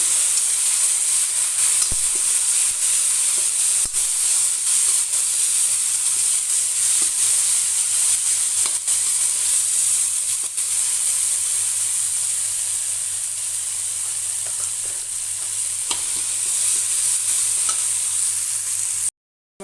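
Ginger, garlic and grated tomato fry in a pan for an Arbi sabzi, made Punjabi style. A continuous loud sizzle and hiss runs steadily throughout, with occasional faint stirring scrapes and clicks.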